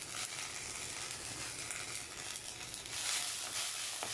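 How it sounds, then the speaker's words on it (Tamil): Ridge gourd peel and mint sautéing in a hot pan make a steady, close sizzle with soft stirring scrapes and no talk. "பீர்க்கங்காய் தோலோடு நம்ம இப்போ புதினா சேர்த்து வதக்கிட்டு இருக்கோம்."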